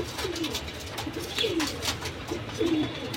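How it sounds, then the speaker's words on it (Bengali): Silver Rani breed pigeons coo in soft, repeated low throaty phrases, several rising and falling calls spaced across a few seconds over a steady background murmur at moderate distance. "সিলভার রানী জাতের কবুতর"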